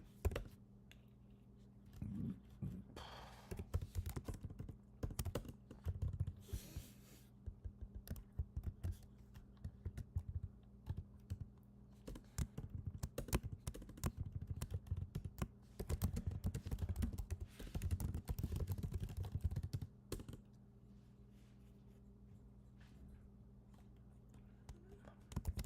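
Code is typed on a computer keyboard in irregular bursts of close clicking and tapping, with pauses between runs of keys. A low hum sits underneath and a quiet background murmur comes through at times.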